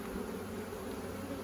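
Honeybees buzz inside a hive, roughly twenty thousand of them, making a dense steady hum that stays even and close throughout, with no speech.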